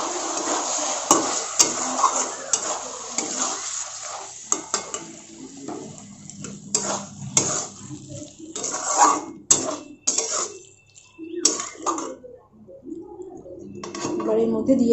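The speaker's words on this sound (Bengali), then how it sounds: "এবার এটা ভালো করে মিশিয়ে নেব।" Kadai paneer masala with garam masala powder being stirred and mixed in a kadai, with intermittent scraping and clinking of a spoon against the pan over a soft sizzling background.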